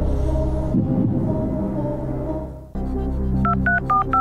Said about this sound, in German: das Handy klingelt und sie fragen nach Kollege